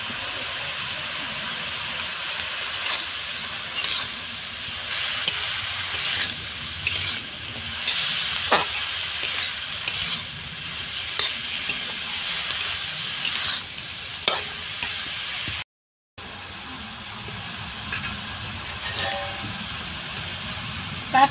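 Chopped raw onion and green chilli sizzle steadily in a frying pan, a close, continuous hiss with occasional stirring scrapes and clinks, broken by one brief gap.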